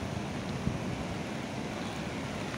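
Floodwater from the Bed river near Jamnagar rushing over a closed road, a steady broadband roar of fast-flowing water with wind buffeting, continuous and fairly close.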